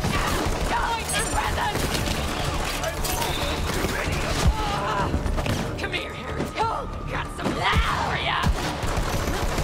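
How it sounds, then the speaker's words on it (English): Gunfire in the Borderlands 3 video game, with dense overlapping bursts of shots and impacts mixed with game effects, continuous and loud, while voices talk over it. "Don't get in the way of me shooting."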